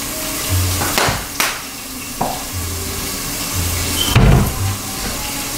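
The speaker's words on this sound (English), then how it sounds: "Let that fry up." Food sizzles in a hot pan with thyme while cooking dinner, a steady frying hiss with clinks and bumps of utensils and a louder burst of sizzle partway through.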